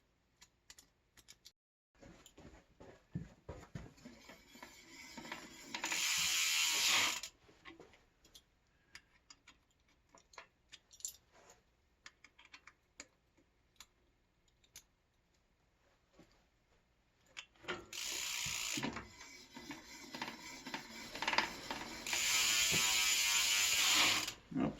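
Rapid freewheel ratchet clicking from a Hope bicycle hub as the wheel spins, a dense buzzing tick heard in two loud bursts separated by quieter mechanical ticking and handling noise.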